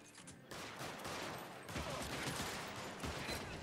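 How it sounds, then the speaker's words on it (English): A sustained burst of gunfire in the crime video game LA Noire, a dense rattle of repeated shots that swells after a brief opening and holds loud and steady for several seconds. "I have to shoot this guy."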